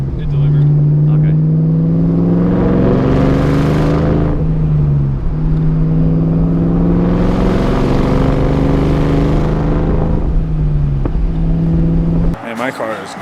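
A supercharged car revs up twice, engine tone climbing while a rising whine builds over each rev, loud and close, before cutting off near the end.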